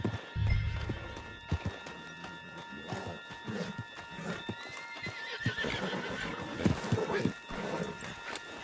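A horse in a video game whinnies and gallops, hooves clip-clopping rapidly over a constant background of game sound, close and clear throughout.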